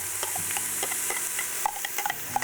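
Onions hit a hot pan and sizzle loudly and steadily, with scraping and stirring clicks from a utensil scattered through the close frying hiss.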